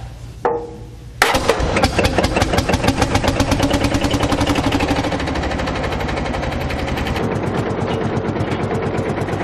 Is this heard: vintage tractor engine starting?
yes